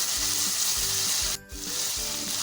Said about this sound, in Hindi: अब हम इसमें डालेंगे 1 टीस्पून लहसुन का पेस्ट, गार्लिक पेस्ट। अच्छे से मिक्स करेंगे।